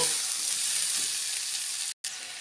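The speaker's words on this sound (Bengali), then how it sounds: "এবার এর মধ্যে দিয়ে দেবো বাঁধাকপি। বাঁধাকপি দিয়ে একটু নেড়ে নেব।" Cabbage being stirred and fried in a hot pan gives a close, steady sizzling hiss with faint stirring, broken by a brief moment of total silence near the end before the frying resumes.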